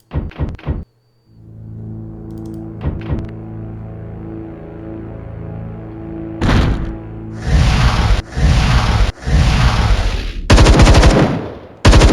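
Rapid automatic gunfire in the video game Templar Battle Force, loud bursts of machine-gun fire under a sustained low musical drone, with a brief cut to silence early and heavy volleys filling the last half.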